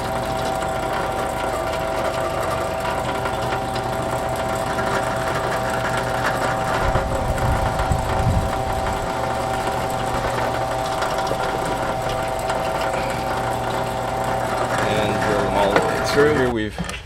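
A power drill bores pilot holes through a wooden module, its motor giving a steady, even whine that runs on without a break.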